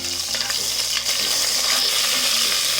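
Ginger garlic paste and cumin seeds sizzle and crackle steadily in hot oil in a home kitchen pan, a loud close hiss with a spoon stirring through it and no talking.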